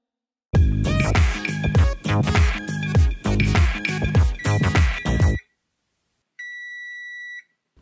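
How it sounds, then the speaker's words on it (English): Phone alarm set as a cooking reminder, a loud run of electronic ringtone tones pulsing steadily for about five seconds, then a brief pause before a thinner, sustained beep tone sounds alone. "that's just my alarm reminding me to check on the food"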